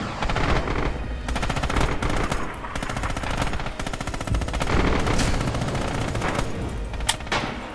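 A machine gun in the video game Red Orchestra 2, set in Stalingrad, fires long rapid sustained bursts with brief pauses between them, loud and close, with no talking over the shots.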